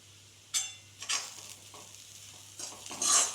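Plantain pieces are stirred with salt in a frying pan, a few scraping strokes and soft sizzling bursts coming in short separate passes close up, with no talking.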